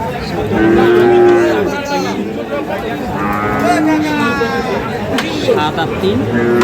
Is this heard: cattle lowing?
yes